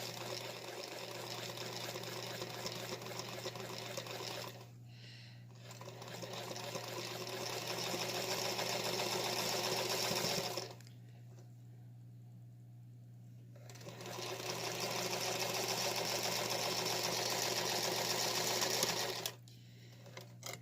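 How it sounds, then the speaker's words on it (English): Sewing machine stitching a quilt seam on a Lonestar stacked X block, with a steady moderately quiet whir in three long runs and two short pauses, over a constant low hum. "I'm going to start my seam. I can back tack a little bit. I can use a normal length stitch"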